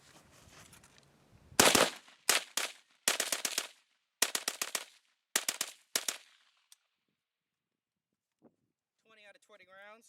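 An AK47 loaded with a second-generation slab-side TAPCO 20-round magazine fires loud, sharp shots in quick groups of two to four, then falls quiet before someone speaks briefly.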